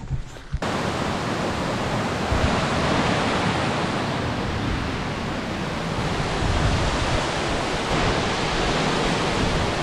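Streams of running water beside a hill trail near a loch, a continuous broadband rush and gurgle that stays steady and fairly loud throughout, with no voices.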